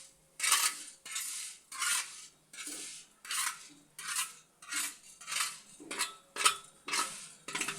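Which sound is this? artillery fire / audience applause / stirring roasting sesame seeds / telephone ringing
stirring roasting sesame seeds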